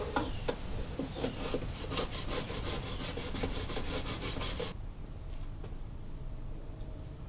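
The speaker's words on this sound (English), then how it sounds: "So I'm going to use a long screwdriver You get down there and scrape the bottom" A long screwdriver scrapes and rasps along the bottom of a clothes dryer's lint trap slot, a steady close-up scratching that runs for several seconds, then stops, leaving quieter background.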